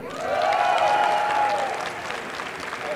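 Applause from an audience at a startup pitch event in Mexico swells into a dense wash of clapping, loudest in the first second and a half, then tapering slightly while continuing steadily.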